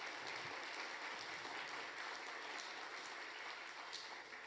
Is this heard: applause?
yes